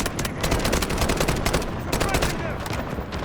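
Rapid automatic AK-12 rifle fire in the Delta Force shooter game, loud close bursts of shots in quick rhythm with a brief pause midway, while a voice talks over the shooting.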